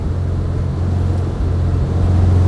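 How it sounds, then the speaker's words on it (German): A car engine pulls away hard, its steady low drone running loud and close throughout with a slight swell toward the end, no voices over it. "Was der für einen Sound hat. Guck mal, wie der abzieht."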